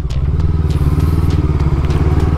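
FKM Expres 500 SC motorcycle accelerating close by, a loud, rapid, throbbing engine note with steady pulsing firing and some clatter, heard alone.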